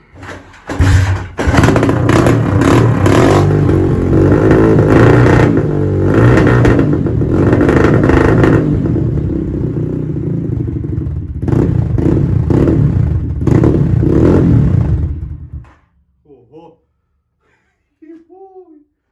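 An enduro motorcycle fitted with a new exhaust starts and runs loud and close, with revs rising and falling over about fifteen seconds before cutting off. Voices come in briefly at the end.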